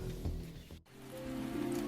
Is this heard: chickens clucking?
no